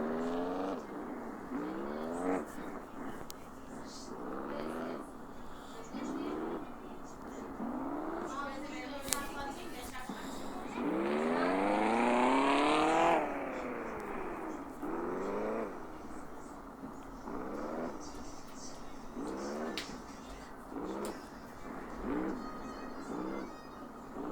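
A modified Şahin car in a drift video game revs repeatedly, its engine pitch sweeping up and down in regular bursts, with one longer, louder surge midway and voices talking throughout.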